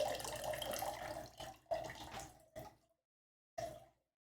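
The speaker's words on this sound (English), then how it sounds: "Wait, did I hear some water?" Water runs from a tap in bursts, a longer stream of about a second and a half followed by several short splashes and a final brief gush after a pause, fairly close and with no talk over it.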